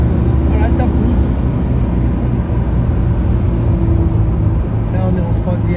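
A 1978 Porsche 928 with a 4.5-litre V8 and five-speed manual pulls hard in third gear, a steady loud engine drone heard from inside the cabin.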